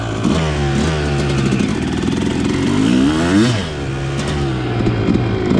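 A dirt bike fitted with a Lectron Billetron carburetor revs with its rear wheel lifted off the ground at light throttle, a loud, close engine note rising and falling through several quick revs.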